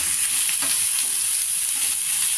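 Chicken curry masala sizzles and fries in a pan in a steady, close hiss, with a few soft scraping stirs breaking through near the start.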